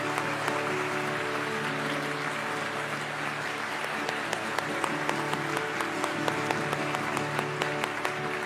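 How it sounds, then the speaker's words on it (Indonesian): A church congregation applauds in a large hall, sustained clapping from many hands holding steady for several seconds, with sharper individual claps standing out near the end. "Kita berikan tepuk tangan untuk semua keluarga Saat Teduh bersama."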